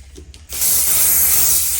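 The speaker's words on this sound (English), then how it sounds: "And then just spraying" A continuous broadband hiss of spray fixative misted over a soft pastel painting of Uluru, starting abruptly after a brief quiet moment and holding steady and fairly loud to the end.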